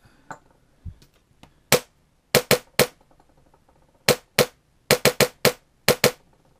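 Sharp, loud cracks of a VFC HK416 D airsoft rifle with a PolarStar engine firing without its silencer, several single shots and quick pairs spaced irregularly, with a few faint clicks and handling sounds between.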